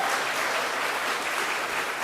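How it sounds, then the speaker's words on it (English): An audience claps steadily at a community gathering, a dense, even wash of applause that holds at full strength for the whole stretch with no voices over it. "You can clap for that."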